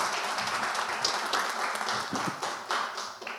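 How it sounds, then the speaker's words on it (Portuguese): Audience applause at a business convention, brief and fairly close, scattered individual claps over a steady clapping wash that thins out near the end. "Salva de palmas"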